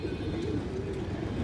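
Brief low cooing from a stone-eyed pigeon kept in a loft, a couple of soft rolling calls over steady background noise.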